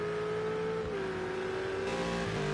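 A GT3 race car engine in a racing video game at Circuit of the Americas, a steady, faint high whine that shifts pitch slightly as the car holds speed.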